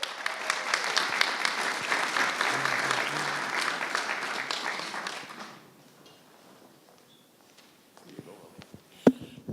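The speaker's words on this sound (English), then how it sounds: "Give him a big round of applause." Concert audience in an arts centre claps warmly for an opening performer, the dense applause holding for about five seconds before fading to near silence, with a few faint knocks and a sharp bump afterward.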